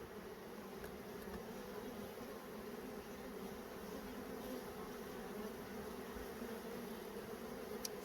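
Honey bees hum in a dense, steady drone around a hive frame being pulled from a honey super, close and continuous for the whole stretch without any talking.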